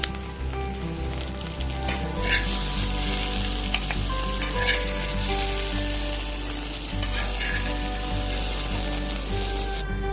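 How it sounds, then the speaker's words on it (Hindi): Okra frying in oil in a kadai, a steady close sizzle with occasional stirring scrapes and a low hum underneath. "तो चलिए भिंडी सारा मैं फ्राई कर लेती हूँ"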